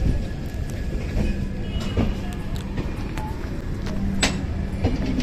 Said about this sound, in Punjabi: ਇੱਕ ਨੰਬਰ ਪਲੇਟਫਾਰਮ ਤੇ ਟ੍ਰੇਨ ਆ ਚੁੱਕਿਆ ਹੈ